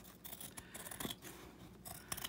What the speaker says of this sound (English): you just sharpen them for a few seconds and they are good to go